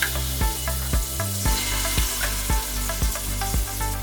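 Food sizzles in coconut oil in a pan with a steady, close hiss. A regular beat of thumps runs underneath, and there is no talk.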